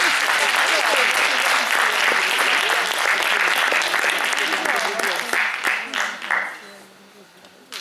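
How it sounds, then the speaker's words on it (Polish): An audience at a New Year's concert applauds a University of the Third Age choir, a full roar of clapping that holds steady, then thins and fades out near the end, with a brief spoken word from a voice. "Ogromna brawa."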